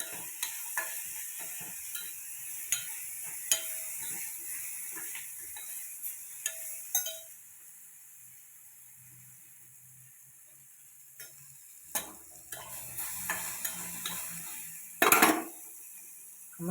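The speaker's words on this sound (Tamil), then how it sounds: "நல்லா ஃப்ரை பண்ணி" Food sizzles steadily in a pan while a utensil scrapes and taps against the metal at intervals, close up, with no talking.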